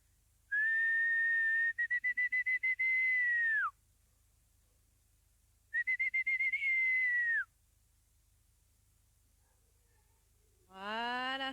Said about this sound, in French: donc je vais les siffler,